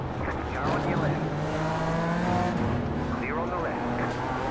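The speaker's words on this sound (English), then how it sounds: "Car on your left." Race cars roar along during a race, one passing close with engine pitch rising and falling, under steady engine drone and a voice talking.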